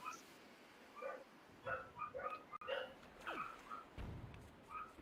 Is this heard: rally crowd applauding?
no